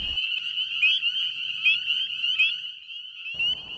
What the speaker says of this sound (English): Say you found a little frog and you're not entirely sure whether or not it's a spring peeper.